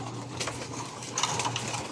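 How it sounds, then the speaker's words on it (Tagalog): Pigeons cooing in an outdoor loft, giving soft low murmuring calls near and far against a faint background hum, with no one speaking. "Ang ating mga ibon na nandito sa labas,"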